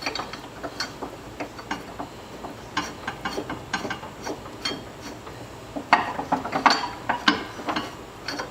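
Mower blade bolt being tightened with a wrench while a special tool grips the blade and holds it in alignment, giving a steady run of close, crisp ratcheting clicks that grow louder toward the end.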